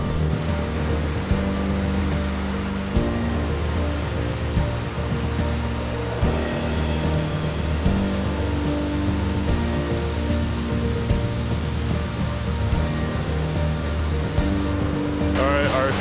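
A large waterfall pours with a constant, loud rushing roar close by, with faint talk mixed in beneath the flow.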